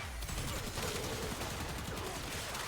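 Rapid automatic gunfire from the Laetum pistol in the video game Warframe, a dense, steady stream of shots at close range filling the whole stretch without pause.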